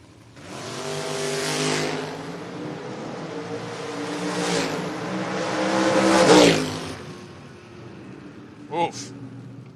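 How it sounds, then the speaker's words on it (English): A Chevrolet Malibu and a Chevy Blazer drag race side by side, engines roaring loud and steady for several seconds before the sound cuts off sharply, followed by a brief distant burst; an announcer talks over the run. "Haynes dialed in 602 for the Malibu, taking on the Blazer, belonging to Scott Dreyer, dialed in 617"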